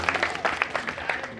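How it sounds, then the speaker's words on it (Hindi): A brief burst of audience applause, dense clapping from a crowd at a live village bhajan evening, with a voice speaking over it. "एक बार जोरदार ताली बजाएं इनके लिए।"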